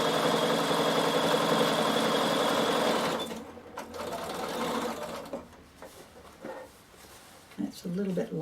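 A sewing machine stitches across the thick top seam of an upcycled backpack, running steadily and loudly for about three seconds before stopping, followed by quieter handling noises and some speech.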